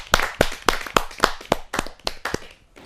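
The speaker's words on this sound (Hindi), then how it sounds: "जोरदार ताली के साथ हम स्वागत करें" A kavi sammelan audience claps in welcome for a guest, a loud, evenly spaced run of about ten sharp claps close by, slowing and fading toward the end.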